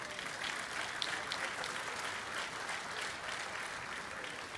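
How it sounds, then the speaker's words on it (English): A roomful of people at a Euroleague basketball awards ceremony and press conference applauds the players, giving a continuous, even wash of clapping that runs steadily from start to finish. "we should give a lot of applause and hands to the players"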